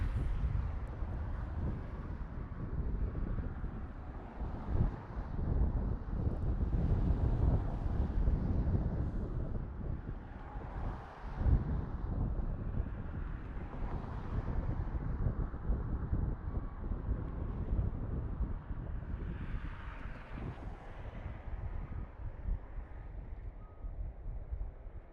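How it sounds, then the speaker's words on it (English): Steady gusty wind rumbles across an open stadium construction site in Las Vegas on a breezy day, loud and continuous for the whole stretch with faint machinery underneath and no voices. "It is a very breezy day out here in Vegas, so it's a little bit chilly."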